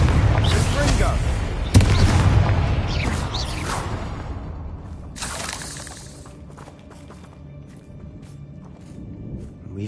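Repeated Confringo spell explosions in Hogwarts Legacy, loud booming blasts with crackling debris and whooshes in the first half, then a final burst that fades into quieter rumbling and scattered clicks.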